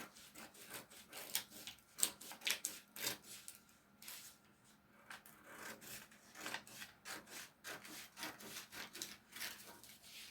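Scissors cutting out corset pattern material along the center front line, heard as close, repeated crisp snips and rasping slides, steady and fairly quiet with no talking.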